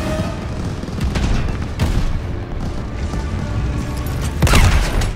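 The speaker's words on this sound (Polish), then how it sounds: "Nie spodziewałem się, że to tak eksploduje na samym początku" Heavy bomb explosion in the World War II shooter game Call of Duty: Vanguard, loud booming blasts and rumbling detonations with crackling bursts, the largest blast near the end.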